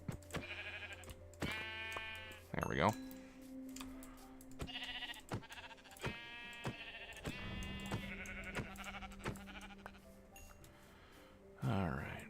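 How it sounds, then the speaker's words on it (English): Sheep in the video game Minecraft bleat several times in short wavering calls scattered through the stretch, loud and close, with someone talking over and between them. "Oh, more sheep."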